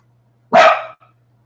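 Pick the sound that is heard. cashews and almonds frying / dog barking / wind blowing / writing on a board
dog barking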